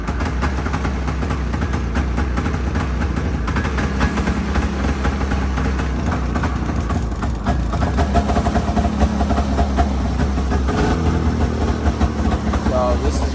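A carbureted 2005 Arctic Cat F7 Sno Pro snowmobile engine runs steadily at a rough, buzzing idle, loud and close, with a brief dip and slight rise in the middle.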